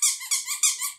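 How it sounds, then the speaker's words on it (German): A squeaky donut-shaped dog toy squeaks sharply four times in quick succession, close and loud, each squeeze a high wheezing squeal with no other sound around it. "dem quietschenden Donut"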